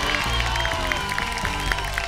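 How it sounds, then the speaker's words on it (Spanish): TV game show studio audience clapping loudly and continuously, a dense steady patter of many hands with music underneath. "Un fuerte aplauso para Pablo de Caria."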